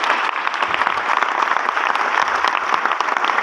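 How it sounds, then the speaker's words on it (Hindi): Dense, steady applause from an event audience, many hands clapping at once and sustained loud throughout with no voices over it. "तो एक बार जोरदार तालियां ग्रॉस के लिए"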